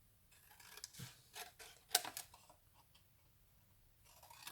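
Scissors cut paper while a sticky-note booklet is being made, giving a quiet close series of short crisp snips and rustles with one sharper click in the middle.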